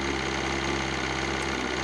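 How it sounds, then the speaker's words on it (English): A motorcycle engine runs cold just after being started, a steady, even idle rumble held close and continuous throughout, with no voices. "Let's start the bike."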